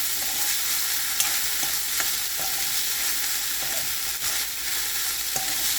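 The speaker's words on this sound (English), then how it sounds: "I'm going to put it in my mixture here. I'm going to mix it nicely." Jasmine rice being stirred into a sizzling frying mixture, a loud steady hiss broken by repeated spoon scrapes and taps against the pan.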